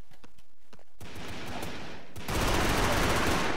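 Gunfire in the Brick Force shooter game: a sustained, dense burst of shots that grows louder and heavier partway through, continuous with no gaps and no talking over it.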